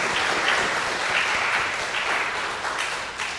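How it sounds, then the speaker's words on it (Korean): A church congregation applauds its choir in a full, even round of clapping that holds steady throughout and eases slightly toward the close. "다시 한번 우리 할렐루야 찬양대를 격려하는 차원에서 박수 한번 드리겠습니다."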